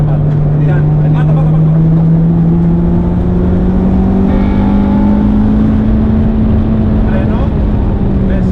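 A GT3 race car, M2 or Civic Type R on the Serres circuit accelerates hard, its loud engine drone rising steadily in pitch from inside the cabin, while an instructor's voice talks over it.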